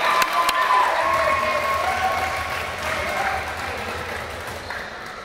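A basketball crowd claps and cheers in a steady wash of applause that slowly fades over several seconds, with voices mixed into the noise.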